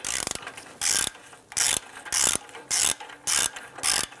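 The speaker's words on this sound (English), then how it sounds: "This upper nut on ours is a 16mm. Go ahead and loosen and remove that." Ratchet working a 16mm exhaust nut loose on a 2005-2010 Chrysler 300, six or seven bursts of rapid clicking in a steady back-and-forth rhythm, close and loud, with short pauses between strokes.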